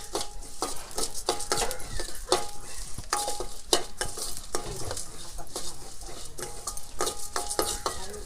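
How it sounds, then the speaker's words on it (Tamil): Poppy seeds, fennel and cumin dry-roast for a village-style country chicken curry, with constant scraping and clattering of a spoon in the pan over a light crackling sizzle, close and steady. "3ஐயும் போட்டு மிக்ஸ் பண்ணி இப்போ எல்லாமே சேர்த்து கொஞ்சம் லைட்டாக வறுத்தா போதும்"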